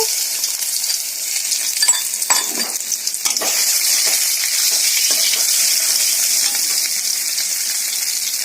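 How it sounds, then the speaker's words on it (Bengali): Ginger paste hits hot mustard oil with cumin seeds, giving a loud, close sizzle that swells and holds steady, with a few stirring scrapes early on and no voices. "গোটা জিরে ফোড়ন দিয়ে দিয়েছি সর্ষের তেলের মধ্যে এবার আদা বেটে রেখেছি এটাকে দিয়ে দেবো"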